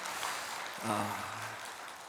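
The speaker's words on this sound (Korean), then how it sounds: "우리 귀한 시온 찬양대 또 우리 악기 팀들을 위하여 뜨겁게 한번 다시 한번 격려의 박수 하시겠습니다" A church congregation at an Easter service applauds its choir and instrument team, a faint, distant, hissing wash of clapping with a short voice rising in the middle.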